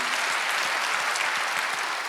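A congregation claps together during a Wednesday church service, a brief, close, steady burst of dense clapping with no talk over it.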